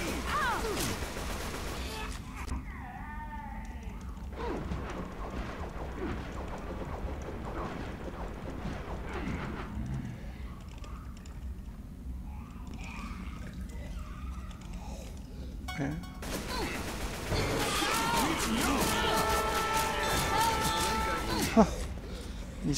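Friendly-fire gunshots from Left 4 Dead 2, firing in scattered bursts and volleys across most of the stretch, denser near the end, mixed with game noise and a voice talking over it.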